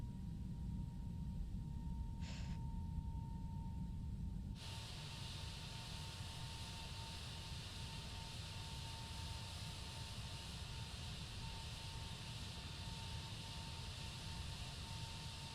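Airbus A321neo jet engines spool up for a takeoff roll in Microsoft Flight Simulator 2020, a steady broadband roar and hiss that jumps louder partway through and then holds constant, with a thin continuous tone running underneath.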